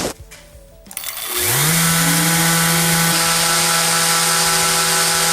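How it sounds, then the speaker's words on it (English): A Festool ETS EC 125 random-orbit sander spins up to a loud, steady whine close by and runs continuously, with no clear stop of the pad brake shown. "Let me demonstrate the pad brake for you."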